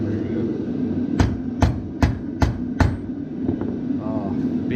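A small grill hammer taps on metal from a 1000 HP LS-swapped kart during a repair, five sharp, evenly spaced strikes ringing close over steady background rumble, followed by quieter rattling.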